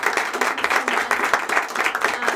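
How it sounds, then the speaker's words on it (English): Loud, close applause from a panel discussion audience, many hands clapping in a brisk, continuous patter with no talking over it. "Let's give a round of applause to our amazing"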